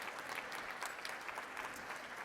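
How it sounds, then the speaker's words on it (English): Applause from a banquet audience at a bilingual parents' summit, faint and distant, a steady even patter of many hands clapping with no talk over it. "A round of applause for them, please."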